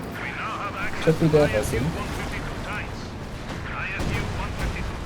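An airstrike lands on a tier 4 building in a strategy video game, a cluster of rumbling explosive impacts and crackling blasts that builds and then fades, heard under a commentator's talk.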